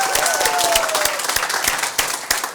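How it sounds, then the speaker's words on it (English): An audience in a meeting room gives a round of applause for a presenter named Casey, brisk close clapping from a small crowd that thins slightly toward the end, with a few distinct sharp claps standing out. "Let's give Casey a round of applause."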